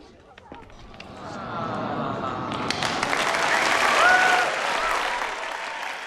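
Audience applause swells from scattered claps into steady, dense clapping that builds and holds for several seconds, fairly close and full.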